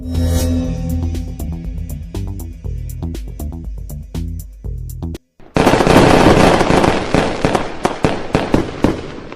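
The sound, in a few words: fireworks in a video game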